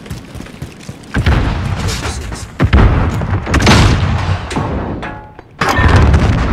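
A grenade goes off in a Call of Duty match: a heavy boom amid recurring gunfire and thuds, with several sharp blasts and a loud final explosion, voices speaking faintly underneath.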